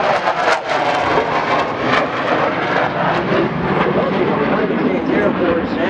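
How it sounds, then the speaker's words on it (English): Air Force F-15 fighter jets fly past at an airshow, a loud continuous roar that fills the whole span with heavy broadband rumble and a slowly shifting tone. "Air Force F-15s making their way back from our flag jump earlier this morning."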